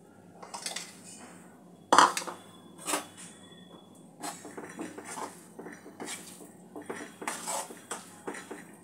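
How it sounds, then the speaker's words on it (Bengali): Moong dal being stirred and dry-roasted in a pan over a medium-low gas flame, heard as repeated close scraping and clinking of a utensil against the pan in irregular bursts, with one sharp louder clank near the start. "এটা এইভাবে ক্রমাগত আস্তে আস্তে নেড়ে হালকা করে ভেজে নিতে হবে মুগ ডালটা।"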